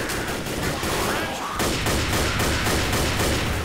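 Dense, continuous gunfire from the video game Left 4 Dead, rapid shots layered into a steady loud barrage lasting throughout, with a brief dip partway before the volley resumes.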